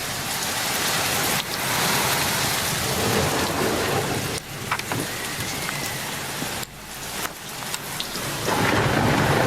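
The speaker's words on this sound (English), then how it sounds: "Thunder." Heavy rain pours in a loud, dense wash with rolling thunder rumbling underneath, broken by a few brief dips before the downpour surges again, with no voices.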